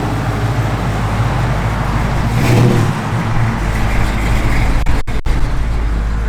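A 1956 Ford F100 truck running with a loud, steady engine drone, rising slightly in the middle, then two sharp clicks near the end, all close and with no talking.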